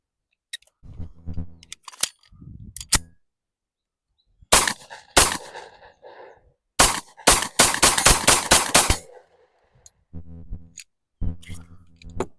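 Pistol firing a magazine of Buffalo Cartridge Company Adrenaline rounds outdoors: two single sharp shots, then a pause, then a rapid string of loud reports, with clinking handling noises before and after.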